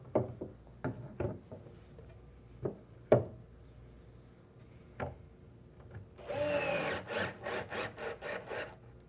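Screws are driven into a wooden face frame cabinet to fit door hinges: a series of close, crisp knocks and taps, then a short buzzing whir of a power driver with rapid pulsing bursts near the end.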